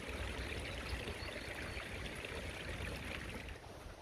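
A small stream flows steadily beside a pond near a hedge and cabin, a continuous close rushing and babbling of water throughout, no voices.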